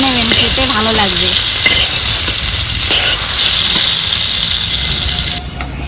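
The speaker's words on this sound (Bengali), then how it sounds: "এভাবে হালকা করে ভেজে নেবেন, খেতে ভালো লাগবে।" Food frying lightly in a pan for a Bengali prawn and pointed gourd poppy-seed dish: a steady loud sizzle and hiss runs throughout with occasional stirring scrapes, then cuts off near the end.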